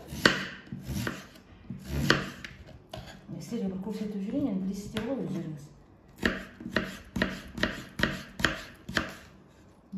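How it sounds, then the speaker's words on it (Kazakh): Potatoes are chopped with a knife on a board, sharp close knocks in quick bursts, falling into a steady rhythmic run of cuts near the end, with someone talking over the first part. "Енді осы картобымызды солай, дәл солай уақыттап тураймыз."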